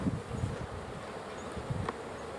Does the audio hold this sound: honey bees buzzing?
yes